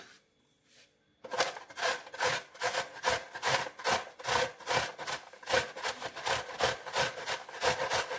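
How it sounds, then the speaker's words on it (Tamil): An apple grated by hand for a healthy cake made without maida or an oven: after a second of quiet, a steady run of close, loud rasping strokes in a quick, even rhythm. "ஆப்பிள் துருவிட்டேங்க"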